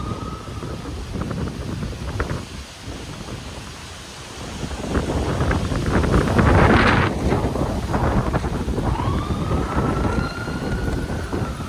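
Strong, gusty wind buffets the microphone during a cyclone storm in the Bay Area, a steady roaring rush that swells louder midway, with a faint siren-like wail drifting in the distance.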